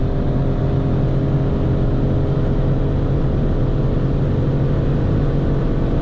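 2017 Ford Mustang GT V8 running on LPG while driving along, producing a loud, continuous engine drone mixed with road and wind noise heard from inside the car.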